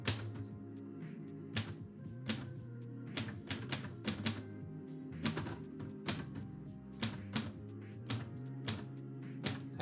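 Irregular bursts of typewriter keystrokes clatter close by, sharp strikes arriving singly and in quick runs over a steady low hum, typed live for a poetry session.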